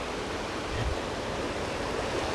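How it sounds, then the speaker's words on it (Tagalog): River floodwater rushes during a typhoon, a dense, continuous roar filling the whole clip with no pauses and no voices. "malawak ang agusan ng tubig dito"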